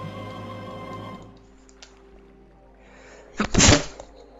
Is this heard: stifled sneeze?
yes